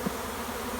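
Nurse bees being shaken off an open brood frame into a cell starter make a close, steady honeybee buzz that holds evenly through the whole short moment.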